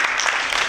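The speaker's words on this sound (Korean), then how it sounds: "크게 박수해주시기 바랍니다." Church congregation clapping during a Korean worship service, a brief, dense burst of applause filling the room.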